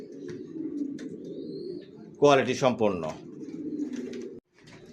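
Racer pigeons coo in low, rolling murmurs throughout, close and steady, with a brief burst of a man's speech over them midway.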